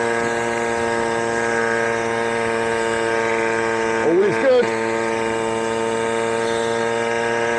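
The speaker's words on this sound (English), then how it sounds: "Bearing in mind this is only a bog standard 50cc engine." A Puch Maxi moped with a 50cc two-stroke engine runs at a steady, buzzing drone rich in harmonics, held evenly throughout, with a brief wobble in pitch midway and a short spoken remark over it.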